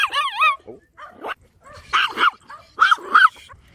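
A small dog yaps and barks in quick bursts, close and loud, with a whining, wavering yelp at the start followed by clusters of short sharp barks and brief pauses between.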